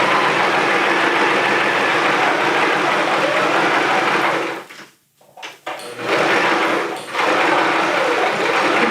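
A sewing machine stitches a seam on a pincushion made with steel wool in a steady, loud, continuous whir, briefly stopping near the middle with a short backstitch before running on again.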